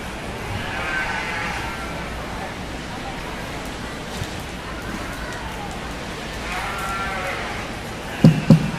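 Ewes bleat at a 4-H/FFA sheep show among Dorset and Hampshire breeding classes, a few wavering calls rising over a busy arena murmur of crowd noise, with a couple of sharp thumps near the end.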